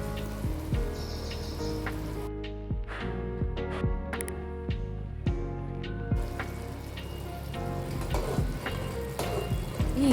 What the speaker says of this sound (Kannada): ಈ ಮಿಕ್ಸ್ಚರ್ನ ಹಾಕಿ ಸ್ವಲ್ಪ ಹೊತ್ತು ಫ್ರೈ ಮಾಡ್ಕೊಳ್ಳಿ.